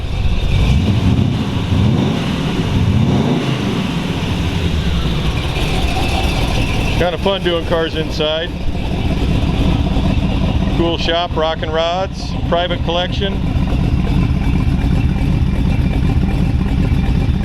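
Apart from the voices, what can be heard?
1932 Ford roadster blown flathead engine starting and running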